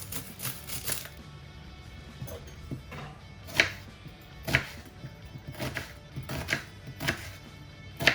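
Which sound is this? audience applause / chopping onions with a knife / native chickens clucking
chopping onions with a knife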